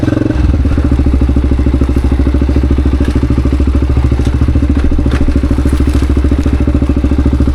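A Honda XR400 dirt bike rides over log crossings on a trail, with a loud, steady thumping single-cylinder engine close by and occasional knocks and clatter from the bike.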